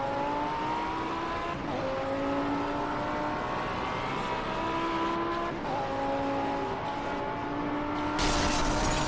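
A damaged Audi race car in the PS4 racing game Project Cars drives continuously, its engine whining through repeated rising gear sweeps with a steady, loud drone and a brief harsh burst near the end; no talking.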